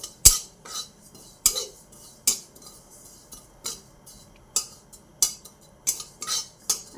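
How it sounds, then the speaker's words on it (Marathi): Two spoonfuls of white sesame seeds are stirred and dry-roasted in a pan for bakarwadi. A metal spoon strikes the pan in a dozen crisp, evenly spaced clinks over faint scraping, close and clear with no voices. "हे दोन चमचे तीळ घेतले मी इथे ते पण असे परतत राहायचे"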